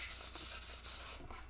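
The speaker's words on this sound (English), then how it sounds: "So rubbing this with this really fine grit sandpaper feels nice." A small crumpled aluminum foil ball is rubbed with very fine 3000-grit sandpaper, giving a close, steady hiss of rhythmic sanding strokes in a quiet room.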